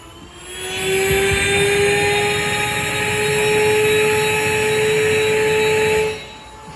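A grain mill runs with a loud, steady jet-engine-like roar and high whine, starting abruptly and holding constant before cutting off near the end.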